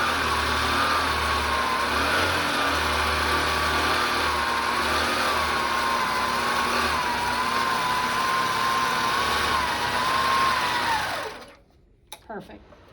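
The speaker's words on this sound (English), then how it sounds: "I'm going to go ahead and sew down my batting so it doesn't accidentally flip it over" A quilting machine sews down batting in a steady, loud mechanical whir with a wavering tone, running continuously for about eleven seconds before stopping abruptly, followed by a few faint clicks.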